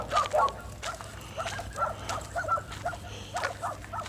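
A dog outdoors in a backyard gives a series of short yips and whimpers, close and moderately loud, repeating irregularly over a low steady background hum.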